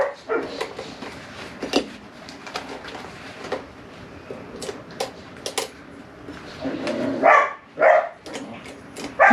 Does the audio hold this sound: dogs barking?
yes